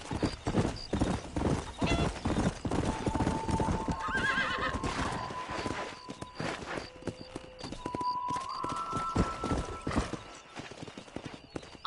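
A horse in the video game Red Dead Redemption gallops with rapid, rhythmic hoofbeats, neighing and whinnying several times over a continuous musical tone, loud and close.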